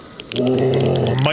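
A blind dog growling in the Stalker game, a short, close snarl that rises after a brief quiet start and holds as a low rumbling growl for about a second.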